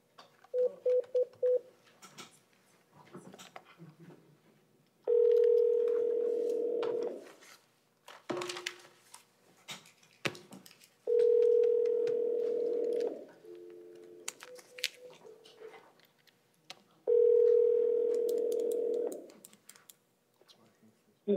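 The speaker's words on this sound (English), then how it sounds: "Let me give him a call." Telephone dialing on a speakerphone in a courtroom, with quick bursts of DTMF keypad beeps followed by repeated ringback tones in regular long pulses, clear and close, with faint room noise and scattered clicks between them.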